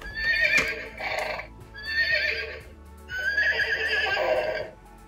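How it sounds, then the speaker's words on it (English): Three loud, drawn-out toy horse whinnies in succession, shrill and wavering, with soft hoof clops faintly audible underneath. "when a horse grazes, there's hoof noises and whinnying"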